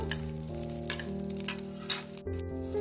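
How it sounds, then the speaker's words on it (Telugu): Green chilies fry in a little oil in a pan, giving a soft steady sizzle close by, with stirring scrapes and a few light clinks against the pan. "ఇప్పుడు ఇందులో పచ్చిమిరకాయ వేసాను. 2 మినిట్స్ అలా ఫ్రై చేసుకుందాము."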